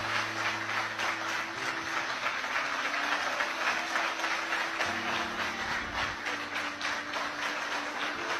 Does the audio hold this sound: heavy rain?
no